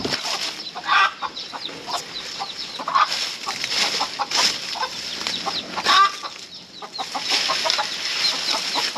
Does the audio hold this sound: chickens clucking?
yes